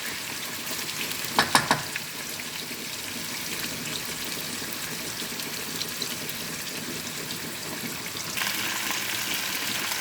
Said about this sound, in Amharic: ዶሮ የታጠበ የተዘጋጀ በቅመም የተለወሰ ነው እና መጀመሪያ መጠበስ አለበት